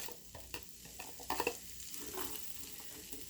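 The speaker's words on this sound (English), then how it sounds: "I'm just going to saute these a little bit until they get soft" Vegetables sautéing in a little butter in a pan, a soft steady sizzle under scattered stirring clatter, with a brief louder burst of scraping and tossing midway.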